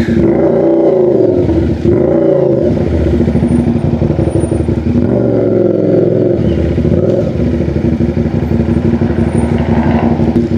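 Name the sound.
CFMOTO 450SR sports motorcycle maneuvering at night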